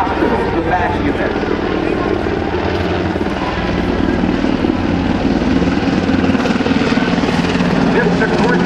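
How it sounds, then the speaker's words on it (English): A loud, steady Sikorsky UH-60 Black Hawk helicopter drone with thudding rotor blades, continuous and close, filling the whole stretch, at an airshow. "This Sikorsky Blackhawk is the Army flying truck."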